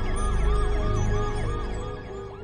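An ambulance siren wails in a repeating rising-and-falling pattern, loud and steady with a low vehicle rumble beneath, slowly fading at the end.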